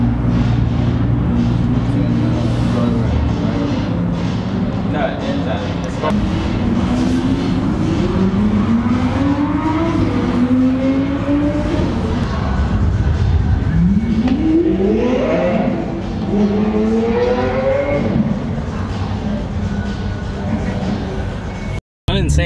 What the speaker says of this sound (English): right now they're doing launches to get out of here